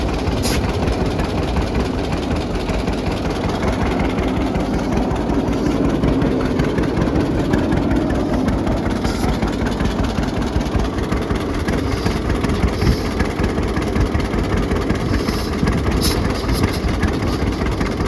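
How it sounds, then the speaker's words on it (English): An old John Deere Model D power unit idles at an outdoor heritage show, giving a loud, steady low engine chug with vibration that holds unchanged throughout. "These are Model D power units here."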